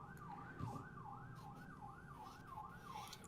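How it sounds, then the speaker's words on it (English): An emergency siren wails in a rapid, repeating up-and-down yelp, about six cycles, heard faintly at a distance over low background rumble. "Whoop, siren whoop."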